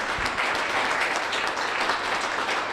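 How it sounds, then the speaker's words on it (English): Applause for the players at the All-Ireland ladies softball final, a steady, dense patter of many hands clapping at moderate distance, sustained evenly without voices standing out. "Round of applause."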